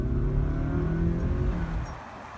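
A car braking as hard as possible from 50 km/h on a road test, with a loud low engine and tyre rumble that fades quickly as the car comes to a stop.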